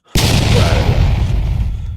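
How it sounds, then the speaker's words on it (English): A loud explosion from a video game trailer bursts in abruptly after a moment of silence, then rumbles and crackles on in a long, slowly fading roar, with no voices. "Explosion, baby."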